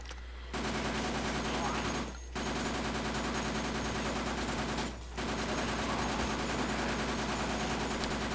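Continuous submachine gun fire in a video game's infinite mode, two long sustained bursts separated by brief pauses, loud and dense throughout.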